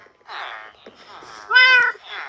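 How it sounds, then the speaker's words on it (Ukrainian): A cat meows several times close by. A longer, louder meow stands out near the end, and quiet speech can be heard between the calls. "там кіт підходить"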